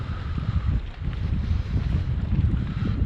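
Strong wind buffets the microphone at the shore of Lake Como in Italy during a fishing outing, a loud, gusty low rumble that continues throughout without any talk.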